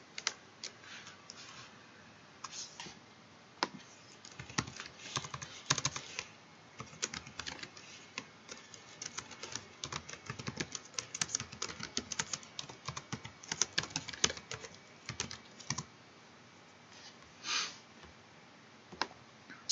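Live typing on a computer keyboard, with irregular bursts of close, crisp key clicks that speed up and pause over a quiet background and no speech.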